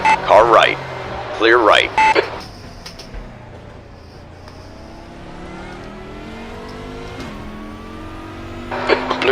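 Race cars in a Daytona multiclass endurance sim race sweep past with rising and falling engine whines, loud passes at the start and end framing a steadier engine drone, while a voice speaks over the opening.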